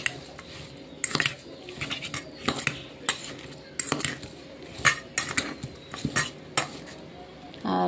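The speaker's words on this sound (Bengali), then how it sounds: "ভালো করে মিক্স করে নেব।" Chopped onion, coriander leaves, green chilli and tomato being mixed in a bowl with a spoon, giving close, irregular metallic clinks and scrapes against the dish.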